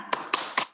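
Three sharp claps spaced evenly about a quarter second apart, close and crisp, as children begin a PPK clapping chant in a classroom lesson.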